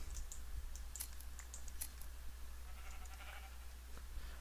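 Minecraft sheep bleat faintly in the background, mixed with close keyboard typing and clicks over a low steady hum.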